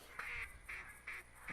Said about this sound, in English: I can hear ducks still.